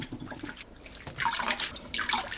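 Cold tap water splashes into a sink as blanched hijiki seaweed is rinsed by hand, starting with soft dribbling and then rising into two fuller bursts of running, splashing water close by.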